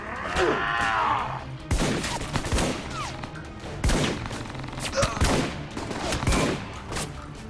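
Shotgun blasts ring out in the video game Alpha Protocol, several loud, sharp booms spaced irregularly among other gunfire and game sounds, with some speech mixed in.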